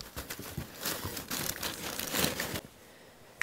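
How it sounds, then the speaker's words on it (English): A handheld tape gun pulls packing tape across a shipping box for delicate glass lamps, making a close, continuous crackling rip that lasts about two and a half seconds before stopping. "So now we're gonna take our little tape gun"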